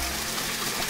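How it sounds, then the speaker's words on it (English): A waterfall pours in a steady, loud, dense rush of water throughout, with no pauses and no voices over it. "Waterfall."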